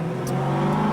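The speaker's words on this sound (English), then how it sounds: "I like my Porsche 911 because the engine sits in the back and the turbo goes properly" A Porsche 911 with its turbo engine mounted at the rear, a brief, loud, steady engine hum rising slightly, heard close.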